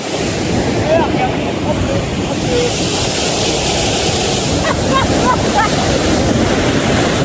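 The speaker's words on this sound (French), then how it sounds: "Je voulais vraiment vous montrer ce que c'était que se rapprocher d'une cascade comme ça." A waterfall in Ireland roars from very close by, producing a dense, steady wash of rushing water with wind buffeting the microphone throughout.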